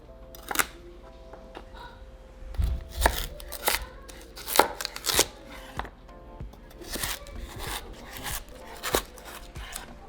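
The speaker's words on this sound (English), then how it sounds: "we can begin to chop our celery" Celery is chopped on a cutting board with a knife, a series of crisp irregular chops and taps close by, some in quick clusters, with no talking.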